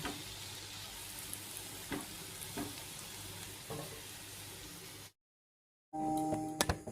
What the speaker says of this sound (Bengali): দু রকমের তেল নিয়েছি, লুচি ভাজা আর সবজি করা